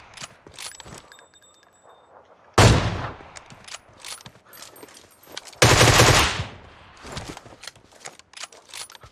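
Rifle fire in PUBG Mobile: scattered clicks and mechanical handling, then two loud sustained bursts of automatic gunfire a few seconds apart, each trailing off, with sparse taps between.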